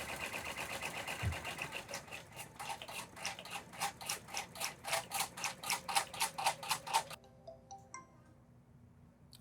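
A Brother PR1055X multi-needle embroidery machine stitches a single letter onto a cap, its needle hammering in a fast, steady mechanical rhythm that grows louder and more pronounced before stopping abruptly, leaving a quiet hum.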